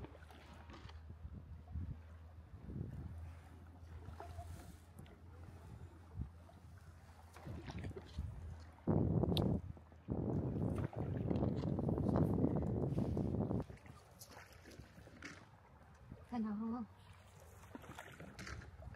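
Rowboats paddled across water on a quiet morning, with soft oar strokes and splashes under light wind noise while people talk nearby.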